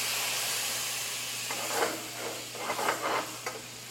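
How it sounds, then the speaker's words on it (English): Wine hitting a hot pan while deglazing for shrimp scampi, a steady close hiss of steam and sizzle with bursts of scraping and bubbling as the pan is worked. "You want to be careful so you can deglaze the pan with the wine."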